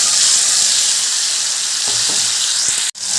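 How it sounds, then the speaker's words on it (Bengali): A tomato, ginger and green chilli paste frying in a pan gives a steady, loud sizzle, with a few soft stirring scrapes toward the end and a brief dip near the close. "এবার আমি টমেটো আদার কাঁচা লঙ্কার যে পেস্ট বানিয়ে রেখেছিলাম সেই পেস্টটা দিয়ে দিলাম"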